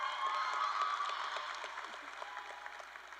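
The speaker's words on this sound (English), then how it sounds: "give a round of applause for Aaron" Audience at the McQueen High School graduation applauding, a dense wash of many hands clapping in a large space, strongest at first and gradually thinning and fading over a few seconds.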